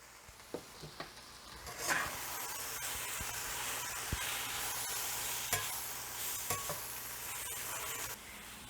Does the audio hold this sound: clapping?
no